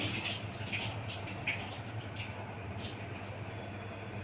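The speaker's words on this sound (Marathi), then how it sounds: "आता मी पाणी उकळत आहे।" Water in a pot on a home kitchen stove, being heated to a boil while cumin rice is prepared, gives a steady bubbling hiss that stays fairly quiet and even, with no talking.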